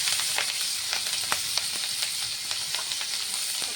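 Chopped green chili and onion fry in hot mustard-oil tempering with bay leaf, dried red chili and nigella, giving a steady close sizzle with small pops and crackles throughout.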